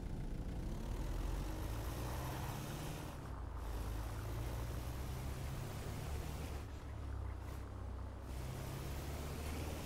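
A car engine in a roleplay video game, a low, steady drone with rumbling road noise that holds at an even, moderate level throughout, with no talking.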